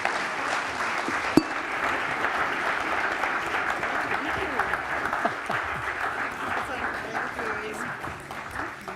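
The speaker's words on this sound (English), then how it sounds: "Let's give our panel a big hand of applause" Audience at a cycling and mobility forum in Copenhagen applauding a panel, with sustained, even clapping from a large room and talk faintly present beneath it.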